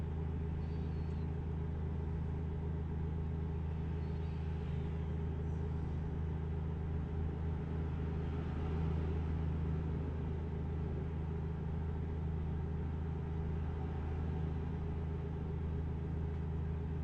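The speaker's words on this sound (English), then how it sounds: "your car sounds like it's really straining" A straining car engine in Euro Truck Simulator 2 drones as a steady, low rumbling hum throughout, even and unbroken, with no speech.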